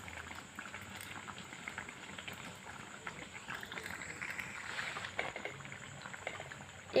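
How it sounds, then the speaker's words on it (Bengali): A chicken sandwich fries in hot oil, its second side cooking in a quiet, continuous bubbling sizzle that swells slightly midway, close by with no talking. "একটা সাইড হয়ে গেছে, পরের সাইডটাও এভাবে ভেজে নেব।"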